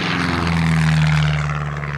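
A small propeller plane flies nearby near an airport, its engine giving a loud, steady droning hum with a throbbing propeller buzz that swells and eases slightly.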